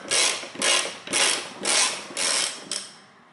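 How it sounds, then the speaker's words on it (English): Six evenly spaced ratcheting bursts come from a wrench working a bolt on a front-wheel-drive car's handbrake cable, each click run loud and close with brief pauses between strokes. "And then I take this, I open this bolt."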